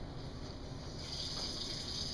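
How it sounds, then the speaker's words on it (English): Tap water runs from a faucet in a steady, close hiss that swells slightly about a second in and keeps flowing evenly, with no talking. "Got to get this water going."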